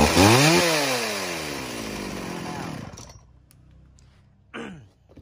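Old Stihl 041 AV chainsaw running after a pull start, a loud buzzing engine that winds down and cuts off near three seconds, followed by quiet and a brief rough burst.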